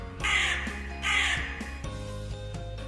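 A crow caws twice in a row, harsh and nasal, loud and near, with a fainter trailing call after and no voices present.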